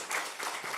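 A brief burst of applause, a crowd clapping briskly for under a second at moderate volume.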